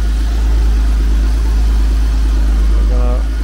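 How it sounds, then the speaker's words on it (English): Exhaust note of a 1972 Mercedes-Benz 280 SE W108 idling, a steady close low rumble throughout, with a brief spoken voice near the end. "And a nice, healthy sound of the exhaust."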